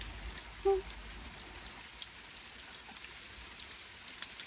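Steady light rain falling outdoors, a soft continuous patter with scattered individual drops and one slightly louder tap early on, fairly quiet and even throughout.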